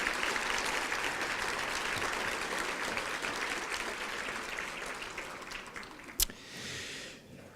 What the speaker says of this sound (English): Let's give them a round of applause for all that they do for Albuquerque.